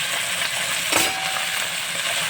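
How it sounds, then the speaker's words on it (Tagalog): Fish fries in a pan of oil, a dense steady sizzle heard up close with one brief stirring or scraping sound partway through and no talking. "Isda naman ang aking ipipreto."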